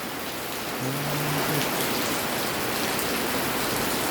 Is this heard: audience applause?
no